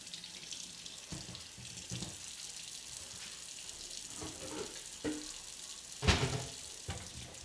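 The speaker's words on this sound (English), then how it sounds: "So I'll run it under some hot water." Hot tap water runs steadily into a sink over a jar of crystallized honey, a soft continuous hiss with a few louder splashes and clunks as the jar shifts, close and alone without talk.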